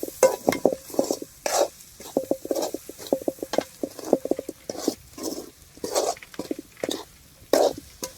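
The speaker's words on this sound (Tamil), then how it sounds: "உங்கள் மீனவன் வீட்டு மசாலா பிடி நல்லா அதையும் போட்டு எண்ணெயிலே வதக்கிக்கணும்" Fish masala powder sautés in oil for a dried-fish curry cooked in a mud hut, heard as quick, rhythmic bursts of spoon scraping and stirring over a light sizzle, close and fairly loud.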